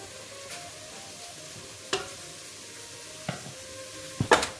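Octopus being stirred in a pot on a stove, a soft steady sizzle under a few sharp utensil scrapes and knocks against the pot, close and alone.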